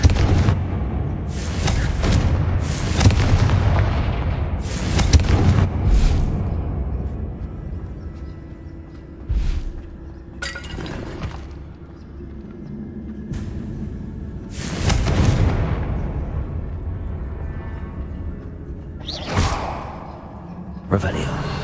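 Confringo fire spell explosions in Hogwarts Legacy, a run of loud broadband booms and whooshing blasts at irregular intervals over constant game ambience, some bursts close together and others spaced several seconds apart.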